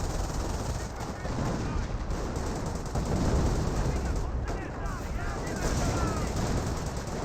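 Machine gun fire from a bunker in a Company of Heroes battle, rapid continuous bursts of gunfire with distant explosions and artillery rumble behind, dense and sustained throughout.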